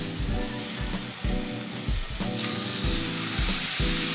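A steak sizzles steadily in a frying pan, the crackling hiss swelling louder partway through, with low rhythmic thuds beneath and no voices.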